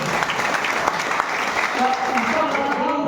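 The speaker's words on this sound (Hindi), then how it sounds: "जोरदार ताली होना चाहिए आपके लिए।" Audience applause at a DXN business success-story talk, steady clapping throughout with a voice speaking over it near the end.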